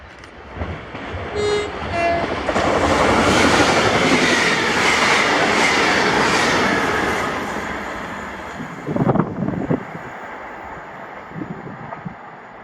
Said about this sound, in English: 2J82, the 1246 ScotRail service to Edinburgh from Glasgow Queen Street